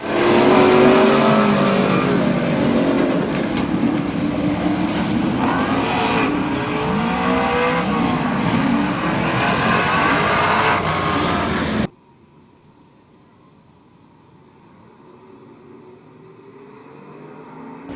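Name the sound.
race cars racing at Midvale Speedway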